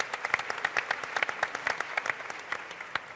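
Crowd applause on a startup summit arena stage, scattered crisp claps over a dense clapping bed, moderately distant and fairly quiet, holding steady for a few seconds.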